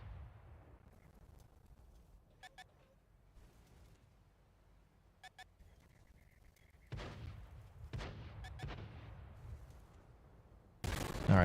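Tank guns boom in World of Tanks console gameplay: several distant muffled shots and clanks, then a few heavier nearby blasts toward the end, with engine rumble in between and no voices.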